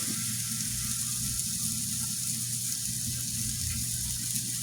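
Burger patties sizzle in a hot pan as a steady, continuous frying hiss with a low underlying hum, even and unbroken throughout, moderately close and with no talking.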